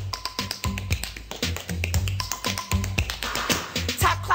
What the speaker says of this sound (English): I'll tap, clap, and snap for you at the same time